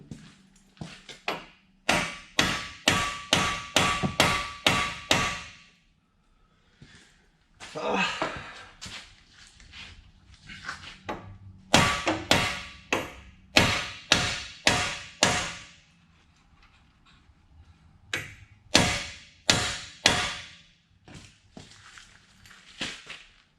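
A hammer pounds on a lower control arm nut of a GMC Sierra 2500HD in rapid bursts of sharp metallic strikes, several dozen blows in clusters separated by pauses, with talk in between.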